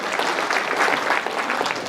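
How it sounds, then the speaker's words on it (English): Audience applause in a school hall during a motivational talk, steady dense clapping filling the room at moderate loudness for the whole stretch with no voices over it. "Come on, give him a round of applause."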